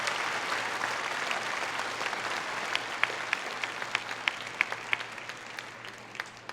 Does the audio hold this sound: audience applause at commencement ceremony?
yes